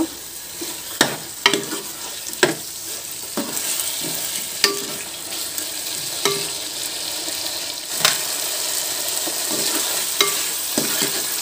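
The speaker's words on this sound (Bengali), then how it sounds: "ভালো করে মিক্স করে নেব।" Chicken kosha, a Bengali dish, being stirred in a pan, with a spatula scraping and knocking in irregular strokes over a continuous frying sizzle, near and fairly loud, with no voices.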